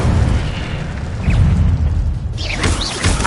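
The Incendio fire spell from Hogwarts Legacy bursts out as a loud, roaring whoosh of flame with booming, crackling blasts, two surges in quick succession, dense and close with no talking.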